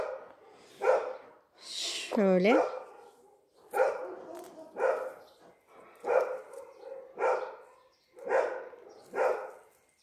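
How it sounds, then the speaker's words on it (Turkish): A neighbour's dog barks repeatedly in short bursts of two or three, with one drawn-out yelp, at a moderate distance; a person says a single brief word during it. "Komşumuzun köpeği havlıyor."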